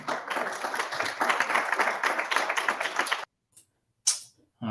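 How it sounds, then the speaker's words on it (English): An audience at a tech talk claps for about three seconds, a dense steady burst of many hands that stops abruptly, followed by a couple of faint brief noises. "Big round of applause for Ian."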